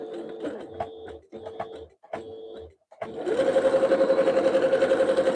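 A home sewing machine run hands-free without the foot pedal while making soup bowl cozies. Short stop-start bursts give way to a steady, close, rhythmic whirring stitch.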